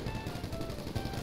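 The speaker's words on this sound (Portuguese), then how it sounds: "ele dá um tiro e mata, mano." Gunfire in the video game GTA V Online, in a container-yard deathmatch: dense, rapid, loud bursts that blend into a continuous roar throughout.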